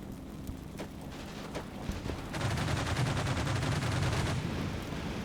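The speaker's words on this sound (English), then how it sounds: "The whirlwind's going to continue shooting at my infantry." Automatic cannon fire from a Whirlwind anti-aircraft gun shooting at infantry in the Combat Mission wargame, a few sharp isolated shots giving way to a dense, sustained rattling burst that continues loudly to the end.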